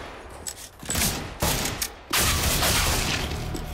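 Shotgun blasts in Counter-Strike: Global Offensive, a few sharp shots in quick succession, the last one loudest and followed by a sustained noisy burst of game sound.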